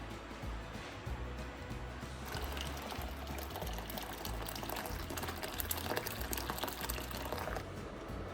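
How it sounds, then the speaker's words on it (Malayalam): Coconut milk made from coconut milk powder is poured into rice in a cooking pot, giving a steady, fairly loud liquid splashing and gurgling that thickens after the first couple of seconds and runs continuously. "തേങ്ങാപ്പാലാണ് നമ്മൾ റൈസിലേക്ക് ഒഴിക്കുന്നത്"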